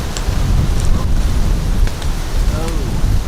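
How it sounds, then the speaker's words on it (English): Cold wind gusting across a frozen lake at a park trail, a loud, steady rushing roar buffeting the microphone, with a few faint higher sounds mixed in. "Oh, that wind though."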